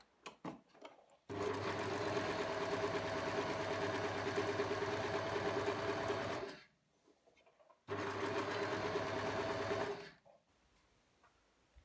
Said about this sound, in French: Puis on surjette les valeurs de couture ensemble.